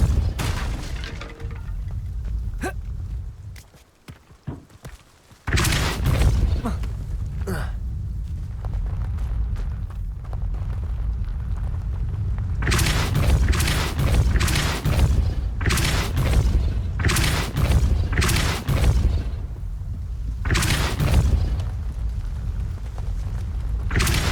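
Repeated booming blasts of the Depulso force spell in Hogwarts Legacy, loud and close, bursting in clusters over a dense rumbling game soundtrack with a brief lull near the start.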